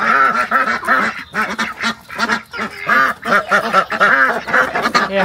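Belgian ducks, each weighing three to four kilograms, quack loudly and close by in repeated rhythmic bursts, several birds overlapping in a nasal, honking chorus with brief pauses between calls.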